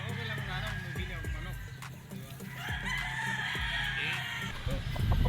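A white kelso rooster crows loudly nearby, with other fowl clucking and calling around it in a busy yard, plus a few sharp knocks.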